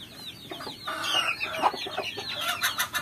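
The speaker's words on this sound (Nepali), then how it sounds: "उल्टे कुखुरा यसको प्वाँक पुरै उल्टो हुन्छ है।" Local Nepali frizzle chickens, birds whose feathers curl backward, cluck and chatter continuously at close range, with several overlapping calls and some sharper squawks and no talking.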